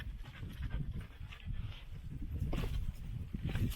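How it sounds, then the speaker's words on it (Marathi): A dog pants rapidly and steadily at close range on the stone stairs of the Kalavantin Durg fort trek, quick rhythmic breaths with a few soft scuffs, fairly quiet, with no talk. "मला फक्त हा कुत्रा परेशान करणार आहे."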